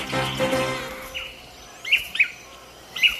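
Tangará manakin birds in the Atlantic Forest give several short, sharp calls, spaced and moderately near, over a low forest hum. A brief blurred stretch of sound comes before them.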